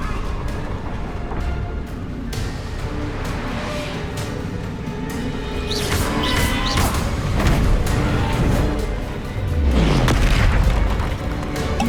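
Explosive Confringo spell blasts in the Hogwarts Legacy video game during a duel, with loud booming bursts around six and ten seconds amid busy combat noise and music, plus spell whooshes.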